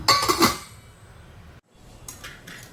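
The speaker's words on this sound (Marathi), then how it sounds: "पाण्याला छान उकळी येऊन द्यायचे, झाकण ठेवूया।" A metal lid clatters down onto a pot of boiling water for vegetable biryani, followed by a quiet pause and a couple of softer clinks.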